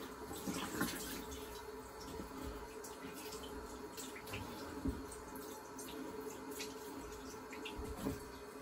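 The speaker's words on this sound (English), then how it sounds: "I'm gonna do a quick rinse" A razor rinsed under a running tap at a sink, water streaming steadily throughout with faint knocks and splashes, close and moderately loud, with no voices.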